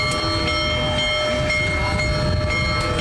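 Big Boy 4014 steam locomotive and train rolling past at a stop in Sterling, a continuous loud rumble with steady metallic hum and faint rhythmic clacking, close by.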